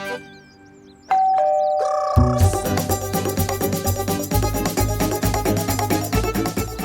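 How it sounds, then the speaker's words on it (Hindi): A doorbell rings with a clear two-tone ding-dong, followed by a loud rhythmic music sting with bright, repeating chimes. "बाजी घंटी।"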